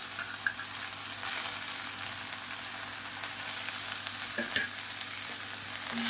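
Mint, coriander and curry leaves sautéing in a pan for a Tamil pudina thuvayal, with a steady close sizzle and a few soft scraping stirs, no voices.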